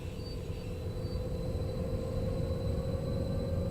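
Train in the Train Sim World 2 game on the Luzern to Sursee line pulling away from a stop, a steady low rumbling drone with a sustained tonal hum, continuous and fairly loud, without talk.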